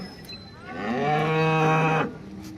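A single long, deep cow moo rising and holding for about a second before cutting off, close by, amid faint background noise of the crowded Modnimb cattle market in Maharashtra.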